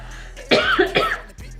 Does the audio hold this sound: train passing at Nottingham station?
no